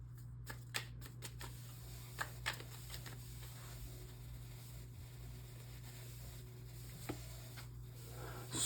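Tarot shadow cards are handled and shuffled, giving a quick burst of crisp flicking snaps at first, then sparse soft taps and rustles over a quiet room hum.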